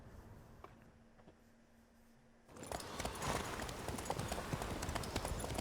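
Armored horses clip-clopping in The Witcher 3: Blood and Wine, a steady hoof rhythm that grows louder and busier partway through as riders set off, layered with ambient game sound.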